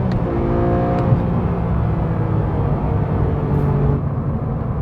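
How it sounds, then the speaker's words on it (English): Porsche 911 GT3 Touring with its naturally aspirated 4-liter flat-six, engine note held loud and steady for a few seconds as it climbs through the revs, heard alone. "there is no other power plant made today that sounds quite like this 4-liter flat 6"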